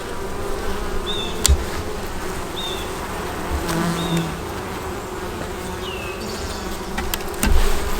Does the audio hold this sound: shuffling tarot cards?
no